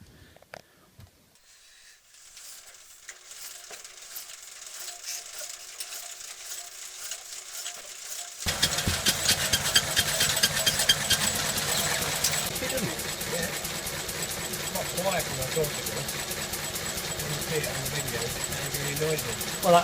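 A 1951 Lister D stationary engine is cranked after a quiet start with talk, then catches and settles into a steady loud mechanical chugging that runs on to the end, with people speaking in the background.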